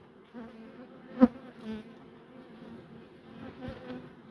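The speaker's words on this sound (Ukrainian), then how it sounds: "Розпліт бджіл ось такий." Honey bees buzz around an open hive during a bee swarm split, a steady low drone with a few louder passes close by, no talking.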